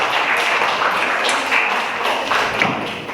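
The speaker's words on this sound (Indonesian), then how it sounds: "Boleh beri aplaus untuk pemimpin Anda." Audience applause for a leader at an Indonesian waste-management gathering, a dense steady wash of many hands clapping that carries evenly throughout, with a few sharper individual claps standing out.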